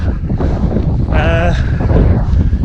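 Gusty wind buffets the microphone of a runner doing marathon training reps into a headwind, a loud, rumbling roar that swells and dips throughout, with a brief tonal whine in the middle.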